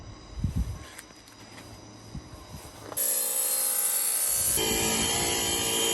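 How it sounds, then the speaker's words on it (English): An angle grinder cuts a capillary groove into a porcelain patio slab. A low, quiet rumble gives way abruptly to a loud, steady, high-pitched grinding whine that runs without break to the end. "then we run the grinder through, creating the shape, the capillary groove"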